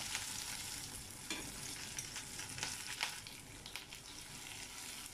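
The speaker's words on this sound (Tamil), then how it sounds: "ஒரு வானலில் கொஞ்சம் எண்ணெய் விட்டு 1 டீஸ்பூன் கடுகு, கடுகு பொரிஞ்சதும் 2 காஞ்ச மிளகாய், அப்புறம் பச்சை மிளகாய், வெங்காயம், கருவேப்பிலை எல்லாத்தையும் சேர்த்து நல்லா வதக்கிக்கலாம்" Mustard seeds, dried and green chillies, onions and curry leaves fry in oil in a pan, giving a continuous soft sizzle with scattered crackles and stirring scrapes, no speech.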